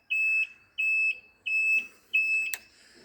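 A motorcycle turn-signal buzzer beeps four times in an even rhythm, each high tone lasting about a third of a second, close and clear in an otherwise quiet setting.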